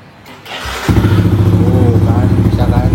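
A motorcycle with a weak battery and faulty charging system cranks briefly on its electric starter, then catches and settles into a steady, loud idle close by, with a short clatter before it fires.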